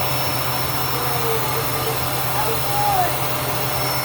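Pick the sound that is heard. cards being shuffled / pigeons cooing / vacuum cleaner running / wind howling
vacuum cleaner running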